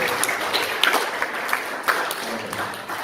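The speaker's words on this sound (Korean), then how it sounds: "환영의 박수 부탁드립니다" Church congregation applauding to welcome a visiting evangelist at a Sunday service, a short burst of steady clapping from a crowd in the hall, with a little voice underneath.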